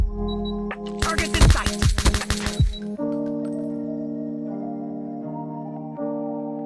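Video game gunfire rattles out as a rapid burst of a dozen or so sharp, crackling shots over about two seconds, followed by sustained electronic game tones.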